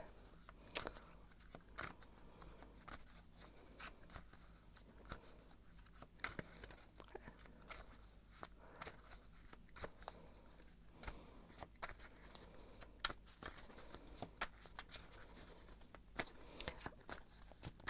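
Tarot cards being shuffled, with soft repeated crunching and riffling slides of the deck, fairly faint and close, with no talking.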